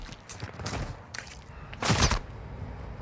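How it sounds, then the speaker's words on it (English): Gunshots in a first-person shooter arrive as a few sharp bursts, the loudest volley near the end, set against a low, muffled game background with no voices. "Somebody just shot at me from the back of clubhouse."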